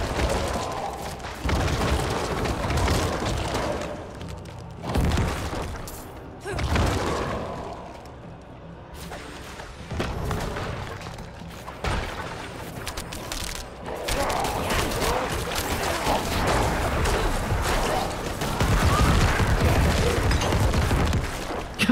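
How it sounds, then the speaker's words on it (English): Corpse explosions in the action game Diablo 4: repeated heavy booms and thuds bursting amid dense combat clatter and game effects, loud and near, with several impacts spaced across the stretch. "that corpse explosion is just so fucking rad"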